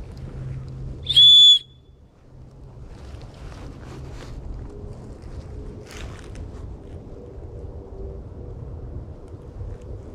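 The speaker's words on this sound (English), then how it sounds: "is the whistle. I'm gonna try it." A handheld whistle blown once outdoors, a short shrill piercing blast near the microphone, followed by steady wind and ambient outdoor noise.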